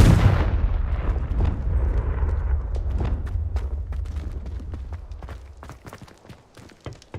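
A Confringo fire spell detonating in the Hogwarts Legacy video game, one loud booming explosion whose rumble slowly decays, followed by a run of sharp crackling and popping hits that fade away toward the end.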